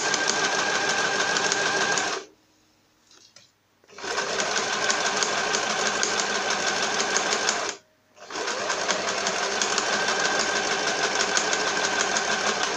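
A domestic sewing machine stitches a fabric pouch in a sewing workshop, running in steady loud bursts of rapid mechanical clatter with two brief pauses, the second one short.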